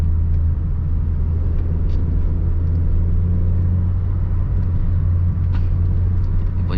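A manual car accelerating in third gear, with a steady low engine rumble and road drone heard from inside the cabin, even and continuous.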